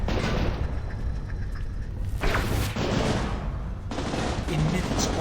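Video game gunfire, dense bursts of rapid automatic shots and booms in loud clustered volleys with short lulls between, close and continuous over a low rumble.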